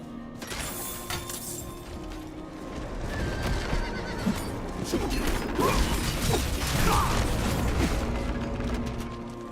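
Horse neighing and whinnying in the Diablo IV video game, with clip-clop hoofbeats over a steady game soundscape that grows louder and busier toward the end, with no talking.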